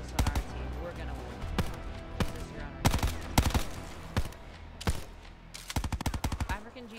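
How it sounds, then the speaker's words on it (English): Call of Duty Black Ops 4 Prop Hunt gunfire: sharp single shots and short bursts scattered irregularly, clustering into a rapid volley near the end, with people talking over them. "African Jesus, stop shooting at random things."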